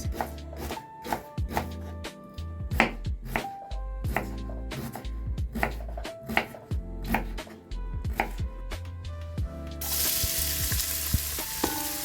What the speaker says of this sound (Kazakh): Алдымен осылай пиязымызды салып қуырып аламыз кішкене.